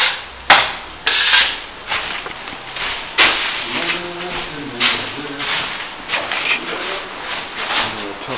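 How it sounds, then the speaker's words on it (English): Steel 6-inch scraper working a plaster top coat over plasterboard repairs, giving repeated close scraping and rubbing strokes with a few sharp taps against the surface, with someone talking over it. "I use a 6-inch scraper a fair bit when I'm putting the top coat on"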